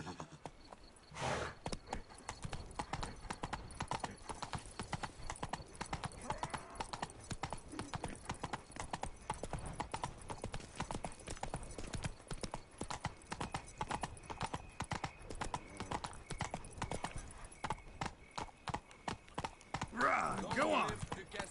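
Roach the horse galloping in The Witcher 3, a steady rapid clip-clop of hooves running throughout with a brief whinny near the end, game sounds and a talking voice mixed in.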